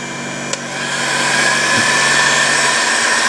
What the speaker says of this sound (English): I'm gonna hit that fuel line with a little heat gun.